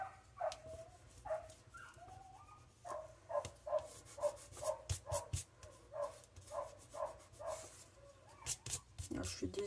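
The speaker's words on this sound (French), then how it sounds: "j'ai ma chienne qui aboie." A female dog barks repeatedly indoors, a string of short, fairly close barks in irregular bursts over a low steady background hum.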